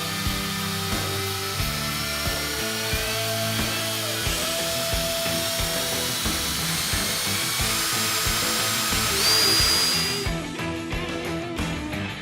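A drill spins an extreme drill bit through a hole at 1400 RPM, giving a steady, loud mechanical whine with grinding and shifting tones throughout, no talking, before easing off near the end.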